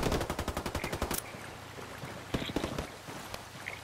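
Video game gunfire in Ghost Recon Wildlands: a rapid burst of automatic fire for about a second, followed by ambient rumble and a few scattered single shots further off.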